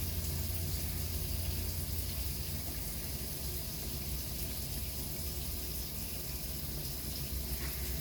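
Hot water runs steadily from a faucet, a constant even rush of flow holding at moderate level throughout with no talk over it.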